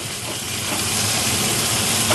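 Hamburg steak with onions flipped over in a pan in a small Japanese home kitchen, giving a steady, loud hiss of frying that holds throughout with no talk.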